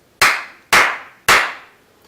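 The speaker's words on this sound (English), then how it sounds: "simply clap your hands, for example, 3 times like this" Three sharp, loud hand claps, close and spaced about half a second apart, each ringing out briefly before the next, with no talking.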